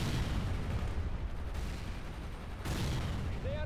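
Gunfire in the World in Conflict Soviet Assault battle game: a steady, fairly faint wash of distant shots and rumbling combat noise, with a couple of abrupt surges and no talking.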